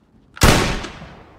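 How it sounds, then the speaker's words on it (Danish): A single rifle shot at Danish army shooting practice, one sharp, loud blast followed by a decaying outdoor rumble and echo. "afgiv et skud"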